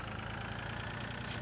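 A small tractor engine in the video game Farming Simulator 2013 runs at a steady, continuous idle, producing a low droning rumble with no pauses throughout.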